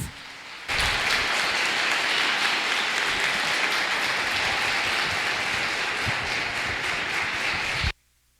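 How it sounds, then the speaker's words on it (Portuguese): Dense, steady applause from a congregation during an evangelical church service, loud and continuous for about seven seconds before cutting off abruptly, with no talking over it. "Aplauda o nome do Senhor Jesus."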